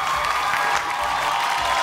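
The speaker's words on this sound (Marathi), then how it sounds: "एकदा जोरदार टाळ्या." Brief burst of steady applause and clapping from a studio audience on a Marathi television show, greeting the runner-up of a contest, loud and continuous with no pauses.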